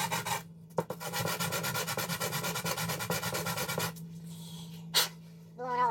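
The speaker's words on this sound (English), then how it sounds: "25 swipes of the file" A metal file rasps against the threads of a custom lightsaber hilt in a long, continuous run of quick, close strokes. After it stops there is a pause, a sharp puff or sneeze-like burst, and then a brief voice.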